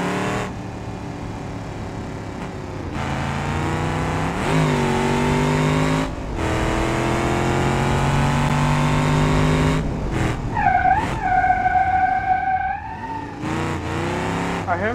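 Simulated stock car engine in the BeamNG driving game, revving and climbing through gears with rising tonal whine, brief drops between shifts, then a pitch-sweeping rev near the end, loud and close.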